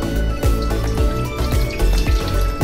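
Water pours into a cooking pot on a kitchen stove for chicken teriyaki, a loud close splashing, gushing stream with faint clanking underneath.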